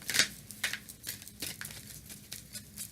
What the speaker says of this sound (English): So I'm putting the card in and I'm going to shuffle the deck.